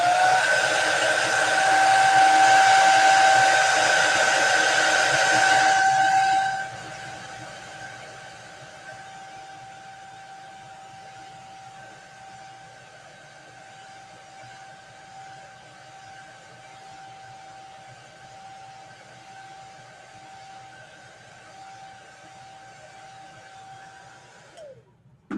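A hair dryer blows loud and steady at close range for about six seconds over a chalk couture fabric strip banner, then drops to a lower setting and whines on alone for the rest of the clip.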